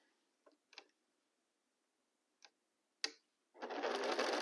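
A sewing machine joins the first two quilt blocks of a row. A few soft, separate clicks come first, then one loud, short burst of stitching ends the quiet moment.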